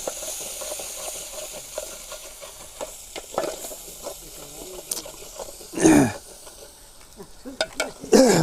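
Oil sizzles and hisses as a vaghar tempering is stirred for desi brinjal bharta on a village farm. The crackle is steady with scraping stirs, and louder bursts come near the end.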